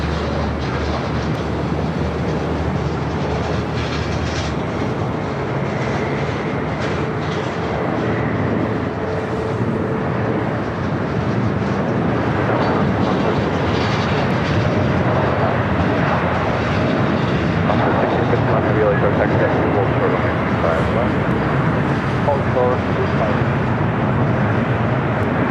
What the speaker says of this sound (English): Japan Airlines Dreamliner heading up to